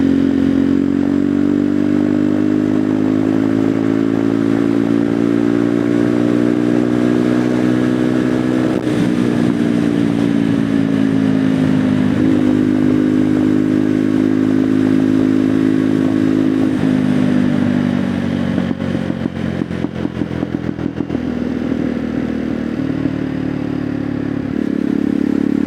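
Jawa Perak motorcycle with a roughly 324 cc engine running close by, a loud steady low exhaust drone with throttle blips and faint crackling pops toward the end, no talk over it.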